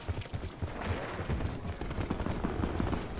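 Sustained automatic gunfire in a Call of Duty match, rapid rhythmic shots rattling steadily for a few seconds, loud and close with no voices.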